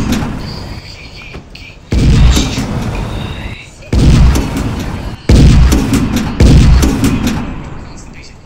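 A tank in modded Minecraft firing four heavy booming shots, each a loud thump with a decaying rumble, spaced about one to two seconds apart over a low background hum.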